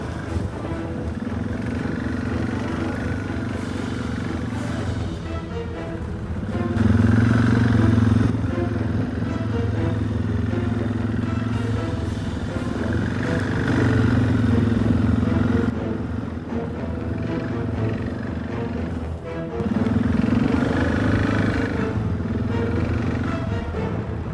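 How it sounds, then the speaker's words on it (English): A four-wheeler ATV engine drones continuously close by, its pitch rising and falling through several louder revving surges, with rough mechanical clatter underneath. "I think it's that forward load, like the vroom, the revving."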